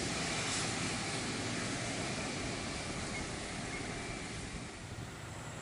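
A Rolls-Royce Trent 700 turbofan on an Airbus A330 gives off a loud, steady broadband roar that holds constant and eases slightly near the end, with no voices.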